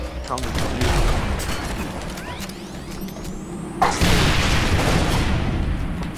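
Gunfire and a plasma launcher shot in the Halo Reach multiplayer video game, a dense burst of weapon fire with a rising whine and a sharp boom partway through, under a player's excited talk.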